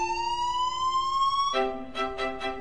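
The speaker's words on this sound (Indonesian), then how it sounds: "dia menyalakan sirine" An electronic siren wails with a slowly rising pitch, then switches to a rapid pulsing pattern of short repeated bursts.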